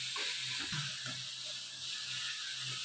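Ginger and garlic sizzle with salt in a pan for a chicken curry, giving a steady close frying hiss that runs the whole time, with faint scraping stirs underneath.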